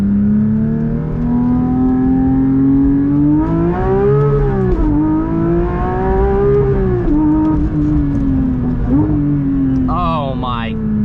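A manual Porsche 992 GT3 accelerating hard, its engine note climbing steadily through the revs, with a dip and renewed rise suggesting a gearshift, loud and close from inside the cabin.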